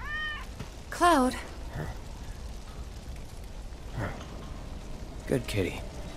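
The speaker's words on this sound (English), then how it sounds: "Good kitty." A cat in the video game Final Fantasy 7 Remake meows several times, with a few short, clear calls spread over several seconds against a soft, rain-like background hiss.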